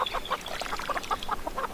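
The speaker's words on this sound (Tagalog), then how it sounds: "pinapainom ko na ang mga alaga kong manok para matunaw ng maayos ang kanilang" Farm chickens being given water cluck and chatter in quick, close, overlapping bursts.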